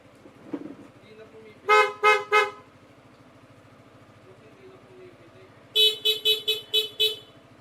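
An old car horn on a weak power supply is tested in short toots: a quick group of three, a quiet pause, then a rapid run of five. A low buzzing hum runs underneath throughout.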